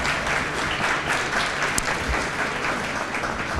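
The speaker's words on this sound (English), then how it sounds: "Let's give all of our partners of the year another round of applause." A luncheon crowd at a county program gives a steady round of applause, dense and even clapping from many hands sustained throughout without a break.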